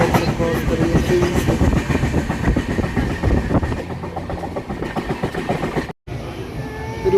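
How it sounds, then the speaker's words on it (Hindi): The Howrah Barmer Express passes quickly through platform 3 of a railway station with loud, close rumbling and rapid clickety-clack of wheels, fading somewhat near the end. "इसको तेज़ी से क्रॉस करती है हमारे हावड़ा बाड़मेर एक्सप्रेस"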